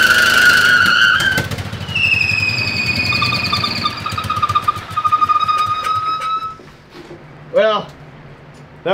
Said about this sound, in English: was one heck of a burnout for a King Midget